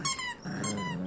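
A dog growls while holding a crab, a close, low rumbling snarl with a brief break in the middle.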